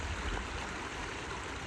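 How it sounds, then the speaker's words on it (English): A small river or stream in Portugal flows with a steady, close rushing hiss that stays even throughout, and no voices are heard. "We encounter this beautiful little river, or maybe it's a stream, and the sounds of it make us want to fall asleep"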